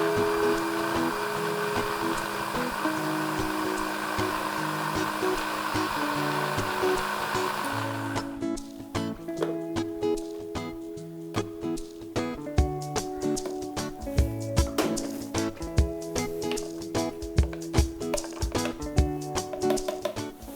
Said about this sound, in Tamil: சர்க்கரை சேர்த்துக்கோங்க. இப்போ நம்ம அரைச்சிக்கலாம்.